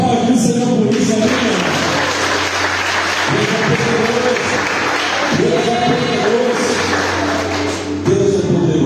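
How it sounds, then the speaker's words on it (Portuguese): A church congregation at an evening worship service applauds loudly, the clapping mixed with cheering voices and a sustained musical drone underneath. "Você podia aplaudir o Senhor por isso, né?"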